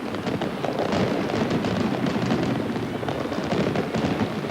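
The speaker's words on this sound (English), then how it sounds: "Thank you, Peter, as the fireworks explode and the Brisbane Broncos come out" Fireworks burst over a rugby league stadium as the Brisbane Broncos take the field in 1994, a dense, continuous crackle and rumble of explosions blended with loud crowd roar, without clear separate bangs.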